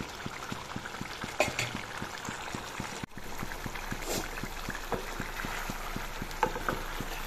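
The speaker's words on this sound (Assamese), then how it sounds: "এনেদৰে মই মাংসখিনি তল ওপৰ কৰি লৰাই দিছোঁ পানীখিনি অলপ নাইকিয়া হৈ যাবলৈ দিম" Chicken curry with brinjal being stirred and cooked down in a pan, a faint, low simmering bubble with soft, regular scraping ticks running steadily underneath.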